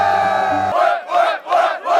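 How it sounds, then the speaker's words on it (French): A crowd at a Coco Bongo nightclub chanting loudly in rhythmic surges, each shout rising and falling, following a short low humming tone at the start. "Il y a une espèce de foule là-devant."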